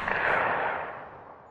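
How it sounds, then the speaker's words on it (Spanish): A burst of distant gunfire in the game Templus Triad, a rumbling crack that fades out over a second and a half with no talking. "Son tiros."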